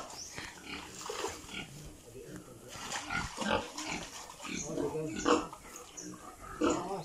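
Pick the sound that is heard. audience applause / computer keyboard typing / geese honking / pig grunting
pig grunting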